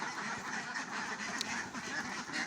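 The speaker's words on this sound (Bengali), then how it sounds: "দেখেন হাঁসগুলো কি সুন্দর করে বেরোচ্ছে" A flock of farm ducks being let out of their enclosure produce a low, busy chorus of quacks and honking calls, moderately distant and continuous, with no speech over them.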